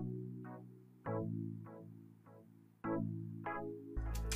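Electra synth keys preset, dry with no added effects, plays sustained chords in a chill afrobeat production, with soft plucky upper notes over warm held tones and a new chord striking every second or two, fairly quiet.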